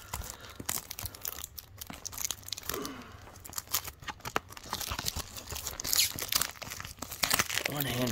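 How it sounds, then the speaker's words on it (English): Cellophane plastic wrap is torn and crinkled off a DVD case, handled one-handed, with close, irregular tearing and crackling bursts mixed with a person talking. "One-handed trying to open some cellophane on a DVD is not that easy"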